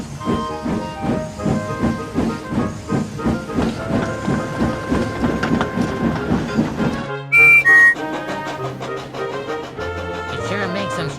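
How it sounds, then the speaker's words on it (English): A toy steam engine chuffs in a steady rhythm. It then lets out a brief, shrill two-part whistle, close and loud, before its rumbling and clanking carry on. "When he left, he blew his whistle."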